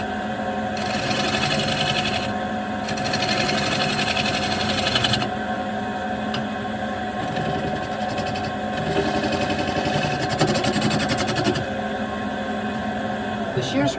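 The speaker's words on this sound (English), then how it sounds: "The shear scraper is a good way to blend curves together." Shear scraper cutting an ash salad bowl spinning on a wood lathe, a steady close machine drone with scraping texture and bursts of brighter hiss as the tool blends curves, continuous throughout.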